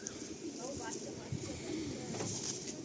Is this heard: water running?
no